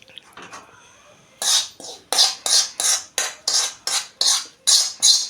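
A spoon repeatedly stirring fried onion, coriander and curry leaves into a thick semolina batter for rava appe, about ten evenly spaced wet scraping strokes, close and fairly loud, with no talk.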